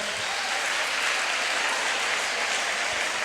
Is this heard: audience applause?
yes